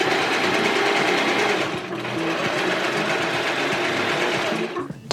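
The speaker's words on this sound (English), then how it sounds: "we're gonna sew it with that front edge, right sides together, at a 1 cm seam allowance" A sewing machine stitches the front bias piece of a no-knit balaclava to its front edge at a 1 cm seam, a loud, steady mechanical whir running close and continuous, briefly easing then resuming before stopping at the end.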